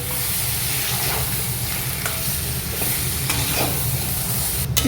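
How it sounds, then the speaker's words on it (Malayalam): Masala paste stirred into frying eggplant curry in a pan: loud continuous sizzle and hiss with repeated scraping strokes of the spoon and a sharp clatter at the very end, without talk. "ആ പേസ്റ്റ്, മസാലയുടെ ഇത് ഞാനിതിലേക്ക് ആഡ് ചെയ്യുന്നു. നല്ലതായിട്ട് കമ്പൈൻ ചെയ്യുക."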